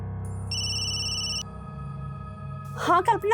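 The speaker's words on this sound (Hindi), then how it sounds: "अरे कल्पना का फोन" A steady electronic ringing tone pulses for about a second over background music, then a voice begins speaking.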